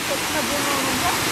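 Old waterfall swollen with plenty of water, a steady broadband rush of falling water filling the clip without a break, loud and close.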